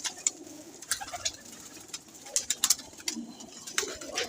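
Pigeons, including an old Rampuri pigeon, coo softly and fairly faintly, with scattered clicks and light flutters mixed among the low calls.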